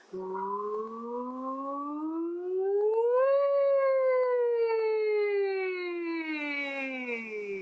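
A voice glides smoothly up and then slowly down in pitch, imitating a siren, sustained and steady without any words.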